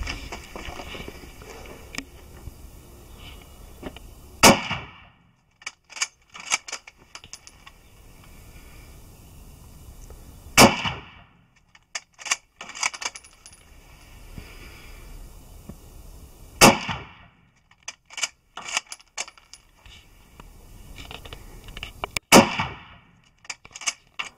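Four loud, sharp Mosin Nagant rifle shots firing 7.62x54R rounds, evenly spaced about six seconds apart outdoors, each a sudden crack with a short decay, and quieter handling and shuffling noises in between.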